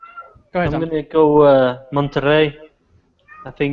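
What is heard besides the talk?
cat meowing, wanting to go outside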